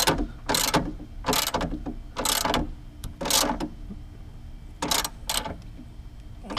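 A ratchet wrench tightens the battery hold-down on a work truck. About eight quick clicking bursts come in uneven spurts, close and clear, with no one speaking.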